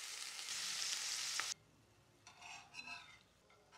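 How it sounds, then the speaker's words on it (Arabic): Halloumi cheese frying in a little oil in a pan, a loud steady sizzle that stops abruptly, followed by quieter bursts of sputtering and pan noise. "حطيت شوية زيت عادي وشويت فيهم الجبنة تاخد لون حلو كده من"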